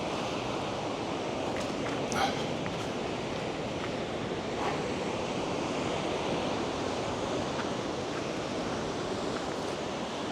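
Ocean surf washing on a shore at low tide, a continuous broad roar of breaking waves mixed with wind buffeting the microphone, loud and steady throughout.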